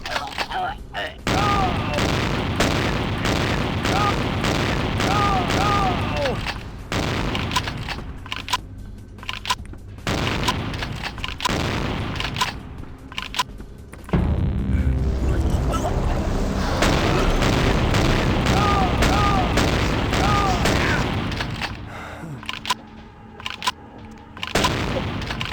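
Shotgun blasts and combat in the Vampire the Masquerade video game, loud repeated booming gunfire with other game sounds, and someone talking over parts of it.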